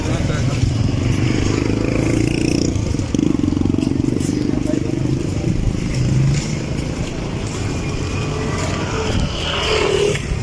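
Motorcycles pass along a road lined with people during a Good Friday Alay Lakad procession walk, a steady loud engine drone with a few rising revs, under continuous crowd chatter and talk close by.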